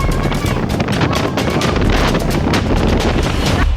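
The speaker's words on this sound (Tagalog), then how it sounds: "ang lakas ng hangin!" Strong outdoor wind buffets the microphone with loud, unbroken roaring gusts while a very large kite is being built, and the rushing noise covers the whole span with no speech.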